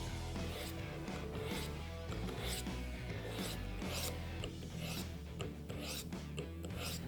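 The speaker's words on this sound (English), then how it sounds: "Now we are going to move on to stage 4, fine honing." A knife is honed on the ceramic rods of a Work Sharp Field Sharpener at the fine setting, giving a steady run of rhythmic rasping strokes, close and even, with no talking.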